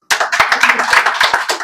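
An audience at a Hindi poetry recital (kavi sammelan) applauds in a loud, close burst of clapping that lasts about a second and a half.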